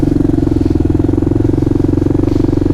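Kawasaki KLR650 motorcycle with a Lex exhaust and no silencer tip, idling or riding slowly on a city street. It gives a loud, steady, rhythmic single-cylinder thump, close up and continuous.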